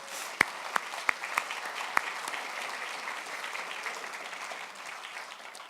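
Steady applause from an audience at a real estate awards event fills the clip, with a few sharper claps standing out near the start before settling into an even wash.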